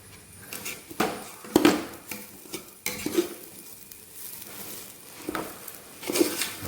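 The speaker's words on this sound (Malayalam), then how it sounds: "അപ്പോൾ ഇളക്കുമ്പോൾ നമ്മൾ കൈ ഇങ്ങനെ തട്ടും," Chicken biryani being stirred in a deep old-model pressure cooker: irregular metallic scrapes and knocks of a spoon against the pot, with a faint sizzle beneath, close by and without talk.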